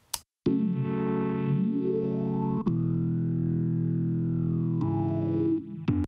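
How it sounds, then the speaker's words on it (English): Filtered synth tone with a sawtooth buzz, held in long sustained chords with sweeping filter movement and sharp attacks at each change, dark and buzzy, with no voices. "In this particular example, we have a filtered synth sound."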